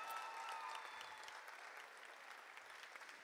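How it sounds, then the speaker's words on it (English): Audience at a high school graduation ceremony applauding steadily, a dense wash of clapping that holds fairly even and tapers slightly toward the end, with no voices over it. "Let's give Ms. Catherine Perez another round of applause."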